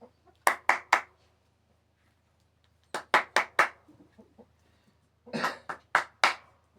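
Hens entering their coop at bedtime give short, sharp clucks in tight clusters of three or four, separated by quiet pauses, close and fairly loud with no talking.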